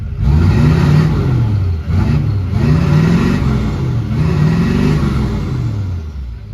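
LB7 Duramax diesel truck with a 5 inch straight pipe exhaust, revved in three loud, close throttle blips, each swelling into a deep rumbling roar before easing back to idle.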